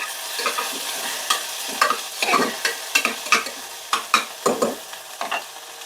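Sliced onions sauté with ginger garlic paste in an oil-filled pan for a Sunday mutton dish, a spatula scraping in quick, uneven strokes over a continuous close sizzle, with no talking.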